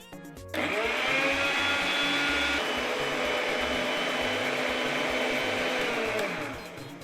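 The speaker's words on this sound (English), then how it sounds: "So I'm going to blend my tomatoes, pepper, and onions for frying first" A blender blending tomatoes, pepper and onions starts abruptly and runs at a steady, loud whir for several seconds, its pitch shifting slightly before it winds down at the end.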